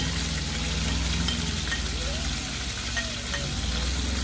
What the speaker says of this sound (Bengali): তেলটা গরম হয়ে গেছে, এবারে আমি এর মধ্যে এই টিস্পুনফুল আমি 5 ফোড়ন দিয়ে দিচ্ছি।